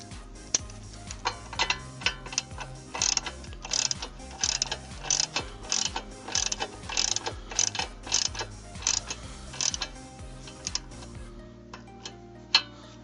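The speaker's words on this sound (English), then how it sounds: "now just tighten up the castle nut" A ratchet wrench tightens a castle nut on the ball joint of a 1992-96 Honda Prelude upper control arm, giving quick, close bursts of clicking strokes over a steady background tone, with a few sharper isolated clicks at the end.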